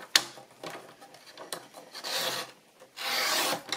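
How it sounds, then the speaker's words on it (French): Paper trimmed off the edge of a pop-up scrapbooking card, heard as soft rasping, scraping strokes close up in a few separate bursts, with no talk. "Je vais découper sur le bord ici ce qu'il y a en trop"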